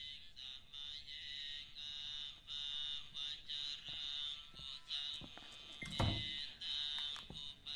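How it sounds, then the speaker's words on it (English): Insects chirp steadily in a dim, steamy home interior, a continuous high-pitched buzzing trill running throughout, with a brief louder clatter or knock near the middle. "What's that noise, crickets?"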